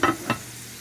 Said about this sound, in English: I am sauteing these in coconut oil